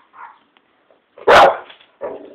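A dog gives a short bark and then a loud, sharp bark up close, followed by another softer yip, scattered with quiet gaps between them.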